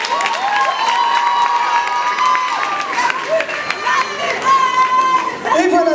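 Audience at a Miss and Mister RDC International pageant evening applauds and cheers a contestant, a dense, steady wash of clapping and crowd voices with bright whistles and tonal music or shouts riding over it throughout.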